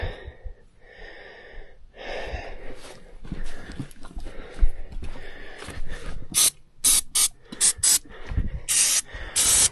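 Short bursts from a spray paint can hiss in quick succession, loud and close, after a stretch of softer rustling and breathy noise.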